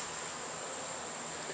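Honey bees on a hive frame make a steady, dense buzz, close and even, with no voices over it.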